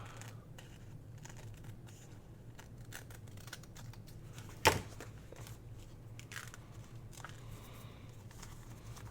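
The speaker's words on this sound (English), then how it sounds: "I'm going to go ahead and trim this off." Scissors snip steadily through glued rice paper, quiet and close, in a string of small crisp cuts with one sharper snap partway through and no talking.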